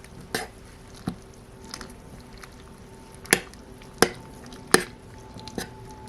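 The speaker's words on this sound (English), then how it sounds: "the soup has come up to a simmer, which is nice. I'm just going to stir everything around" Minestrone soup simmering in a Dash Mini rice cooker pot is stirred with a utensil, producing several sharp clinks and knocks against the pot over a faint bubbling hiss, close and otherwise quiet.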